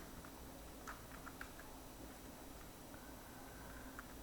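A computer keyboard types a document title in MS Office 2016, a handful of faint, light key taps scattered over a quiet background.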